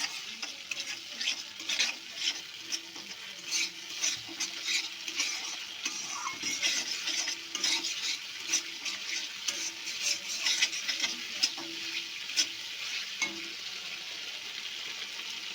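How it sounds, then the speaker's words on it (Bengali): Spices are stirred in a hot pan for a vegetarian green banana curry with cashew, poppy seed and melon seeds, a steady sizzle with scraping strokes of the spoon, close and continuous without talk. "মশলাটা একটু ভালো করে মিশিয়ে নিই"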